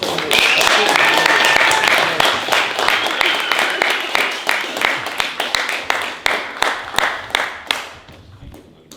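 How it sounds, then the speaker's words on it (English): Applause from a poetry night audience for a young poet, full clapping that starts loud and dense, then thins into scattered individual claps as it fades out, with some voices under it. "we should just give this young lady a applause"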